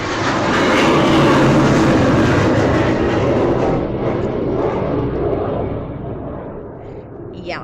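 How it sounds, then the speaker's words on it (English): Airplane passing overhead, a loud broadband roar that swells early and then slowly fades as it moves away, dominating the recording. "that was an airplane."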